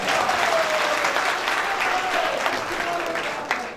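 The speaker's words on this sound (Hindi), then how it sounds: "और एक बार तालियां जोर से।" A crowd at a meeting claps steadily and loudly throughout, a dense wash of applause that fades slightly toward the end.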